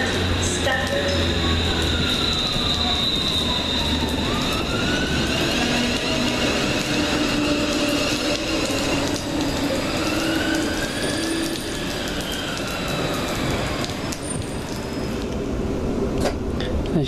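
A train pulls away from a station, a loud continuous rumble with rising and falling whine and rattling carriage noise throughout, with some speech-like sound mixed in.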